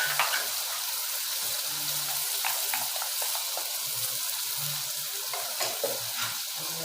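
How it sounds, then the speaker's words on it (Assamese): Mustard paste and small fish curry are stirred and sizzled in a pan, with soft scraping and spattering crackles over a steady frying hiss. "এতিয়া অলপ লাৰি দিব।"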